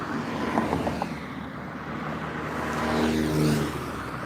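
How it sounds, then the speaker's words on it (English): Cars rumble past one after another along a city street during an evening walk, a steady traffic hiss that swells as a nearer vehicle passes toward the end. "car after car after car after car after car"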